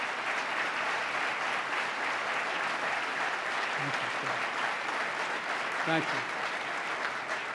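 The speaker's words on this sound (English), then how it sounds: "Let's give them a round of applause for believing in New York." Sustained audience applause fills a large hall at a State of the State address, the crowd clapping for the New York Islanders owners, with a brief spoken word near the end.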